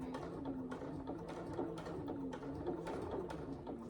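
A sewing machine stitching close to the piping on a fabric saddle bag gives a continuous, even mechanical whir with a rapid rhythmic needle pulse, close and moderately loud.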